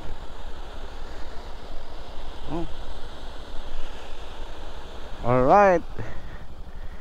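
Steady broadband rush of strong flowing water along a river or dam near Cavinti, Laguna, continuous throughout, with a few excited voices breaking in briefly near the end.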